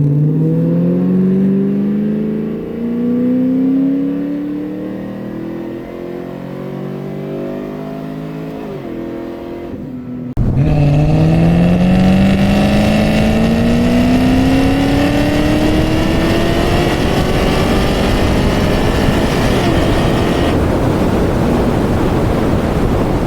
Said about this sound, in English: I'm gonna run third gear all the way out and see if it shifts on its own to fourth.